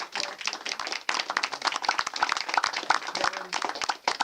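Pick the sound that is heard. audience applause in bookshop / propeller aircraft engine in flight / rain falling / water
audience applause in bookshop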